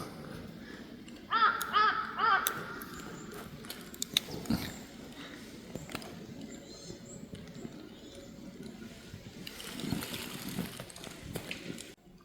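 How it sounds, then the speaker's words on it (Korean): Crows caw a few times in quick succession, fairly faint and distant, over quiet outdoor ambience on a wooded mountain ridge during a mushroom-hunting hike, with footsteps and light rustling. "하늘에 까마귀가 참 많아요."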